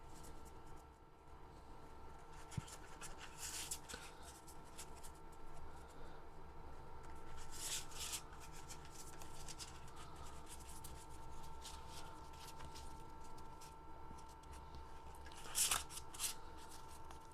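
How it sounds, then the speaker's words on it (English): Tarot cards are shuffled quietly in short riffling bursts spread across a faint, steady background hum. "I'm just going to shuffle my cards"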